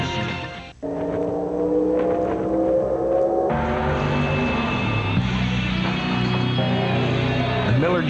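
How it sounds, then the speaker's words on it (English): A loud, sustained engine roar with shifting pitch from a Miller Genuine Draft Rusty Wallace stock car revving continuously, dense and close throughout. "A Miller Genuine Draft Rusty Wallace stock car."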